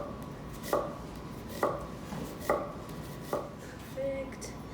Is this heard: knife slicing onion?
yes